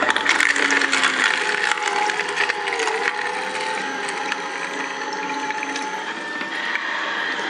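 An electric blender grinds hazelnuts with a little water for hazelnut milk, giving a loud, continuous, close whirring grind with a rattling mechanical edge.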